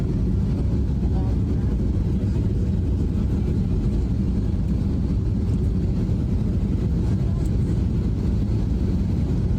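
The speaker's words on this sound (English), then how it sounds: "a migrant flight from Fort Bliss came in" A migrant flight from Fort Bliss lands at Guantanamo Bay, a loud, steady low rumble of aircraft engine noise that stays constant and close throughout, with no break.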